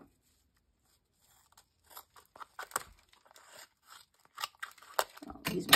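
Large scissors snipping through cardstock paper in short, irregular cuts and crinkles, close up and fairly quiet, after a silent start.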